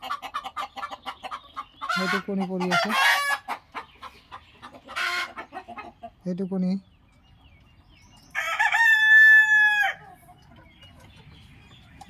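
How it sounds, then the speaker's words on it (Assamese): A golden hen clucks close by in bursts, with a loud drawn-out cackle near the end and a rooster crowing in between, while someone speaks briefly. "এইটো মোৰ সোণালী মুৰ্গী"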